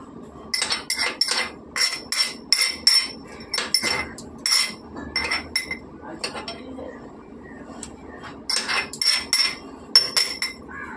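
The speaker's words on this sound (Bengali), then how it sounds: "তো চলো এখন আমি রসুনটা পেস্ট করে নেবো।" Garlic being pounded into paste, sharp rhythmic knocks in quick clusters with metallic ringing clinks, pausing briefly midway, with faint background voices.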